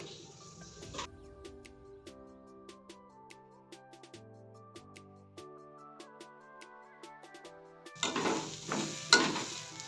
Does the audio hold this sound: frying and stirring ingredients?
yes